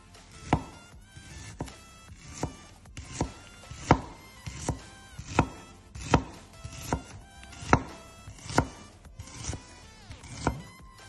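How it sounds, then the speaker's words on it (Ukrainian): A knife shredding a halved onion into thin strips on a cutting board, sharp close chops falling in a steady, fairly even rhythm about once a second, with no voice heard. "Кладуть розрізом вниз на дошку і шаткують соломкою"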